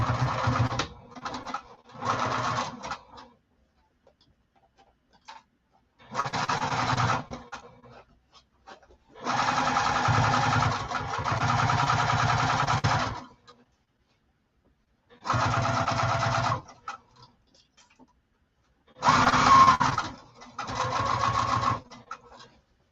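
A sewing machine stitches a garment lining in six separate runs of steady motor whirring, some short and some several seconds long, with quiet pauses between them.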